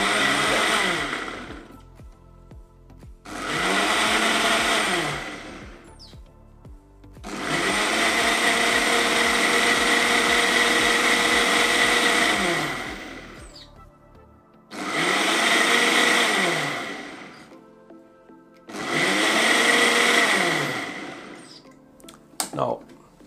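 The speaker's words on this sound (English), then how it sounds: "Turn our blender on." A Ninja blender whirs through a batch of turmeric mixture in repeated bursts of several seconds each, starting and stopping about five times, loud and close, with short quiet pauses between runs.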